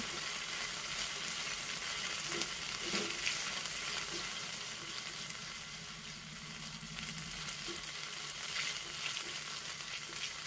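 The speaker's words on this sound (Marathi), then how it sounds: "आलं लसणाची पेस्ट तेलामध्ये व्यवस्थित परतून घ्यायची" Ginger garlic paste sautéing in oil over a low flame for spiced cumin potatoes, a soft continuous sizzle with occasional stirring scrapes, close and unaccompanied by speech.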